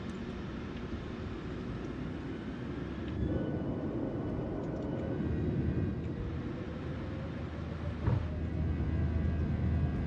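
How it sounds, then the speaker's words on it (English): Air Canada airliner engines building to a steady broadband roar during a rolling takeoff, the rumble growing louder around the third second and holding strong, with a low drone rising near the end. "We're gonna do a rolling takeoff, so as soon as we line up, we're gonna speed on out of here."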